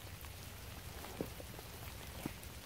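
Light rain patters on a surface as a faint, even hiss, with a couple of brief louder drops standing out.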